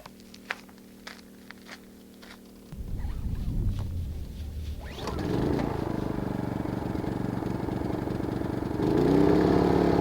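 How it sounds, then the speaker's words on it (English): A portable generator starts up and runs outside an ambulance in the Quartzsite desert, its steady mid-pitched engine drone rising in level after a few quiet seconds and continuing close by. "Sorry for the generator noise."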